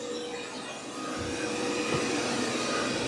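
A Roborock Qrevo Edge robot vacuum runs with a steady broadband whirring hiss that swells slightly about a second in, continuous and moderately close with no talking.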